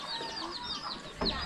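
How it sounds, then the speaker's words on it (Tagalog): Chickens clucking nervously as they are caught on a farm, a cluster of close squawks and clucks with a sharper burst near the end, fairly quiet overall. "Ngayon dahan-dahan naming dakpon ang mga manok"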